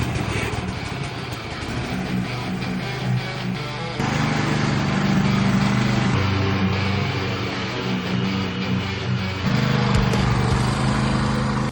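A lawn mower engine runs steadily while cutting, a continuous close droning hum that shifts slightly in pitch and load as it works.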